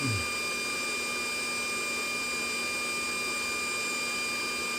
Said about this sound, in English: now I got my electromagnetic heater in there